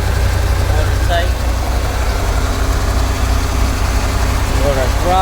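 A repaired Sea Ray 210 Monaco boat engine runs out of the water with a new transom assembly and exhaust gaskets, giving a steady, loud low idle rumble throughout while a voice talks over it.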